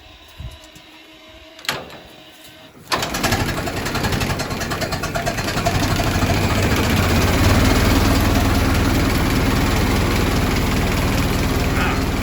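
A vintage car engine cranks and catches after a few seconds of near quiet, then settles into a smooth, steady idle that holds loud and close to the end.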